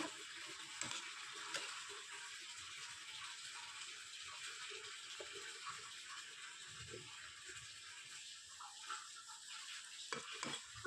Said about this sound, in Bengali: লাউ শাক দিয়ে একটু নাড়াচাড়া দেবো